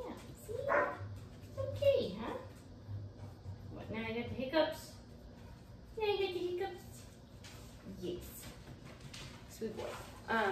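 A puppy being leash trained gives repeated yips, short barks and whimpers in uneven bursts, close by, while a person talks softly to it between the cries.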